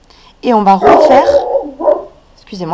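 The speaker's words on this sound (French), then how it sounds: "c'est mon chien" A pet dog barks and yips loudly and close by during a crochet tutorial, with a short burst of barks interrupting someone speaking French.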